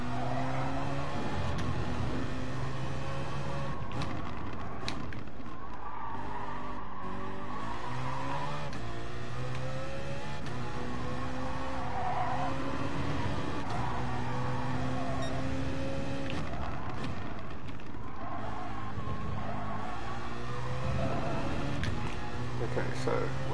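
A BMW Z4 race car in a racing video game runs a flying lap, its engine droning loudly and continuously, rising and falling in pitch through gear changes, with occasional tyre noise. A voice talks faintly underneath.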